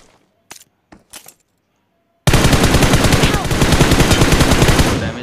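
Automatic gunfire in the mobile battle-royale game BGMI, a loud sustained burst of rapid shots after a few brief clicks and near silence, running continuously for about three seconds.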